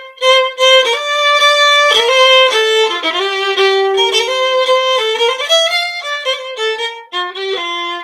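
Highland pipes playing the strathspey Mrs. McDougall Grant by Nathaniel Gow, a bright, continuous reedy melody with clipped dotted ornaments, loud and close with no talking.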